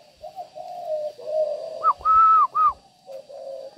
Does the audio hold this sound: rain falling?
no